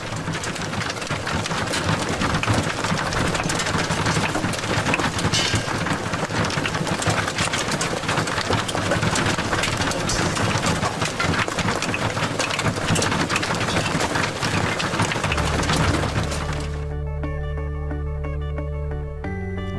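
Hail falls as a dense, loud, continuous hiss of pelting ice on surfaces for about sixteen seconds, then cuts off abruptly to a low hum.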